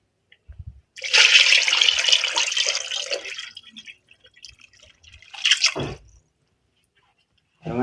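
Water is poured into a pot holding beef in a noisy two-second gush. A shorter splash follows after a pause. Both are loud and close, with no talking.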